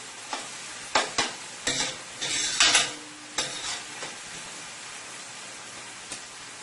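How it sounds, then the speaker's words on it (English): Garlic sautés in a pot, with several sharp stirring scrapes and clanks over a soft, steady background sizzle, then quieting to a low hiss. "I'm going to let that saute for a minute or 2"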